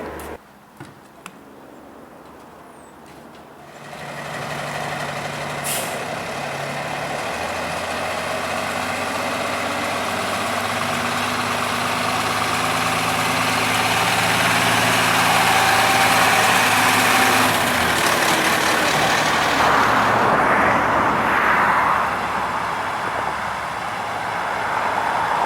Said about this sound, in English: I've already started the trucks for all the other drivers, so that when they get in, it's all warmed up and ready to go.